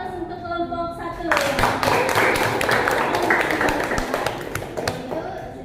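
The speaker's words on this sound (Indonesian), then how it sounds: "Kita beri aplaus untuk kelompok 1." A classroom audience applauds a student group: a dense, steady clatter of many hands clapping starts after a second and carries on to the end, with voices mixed underneath.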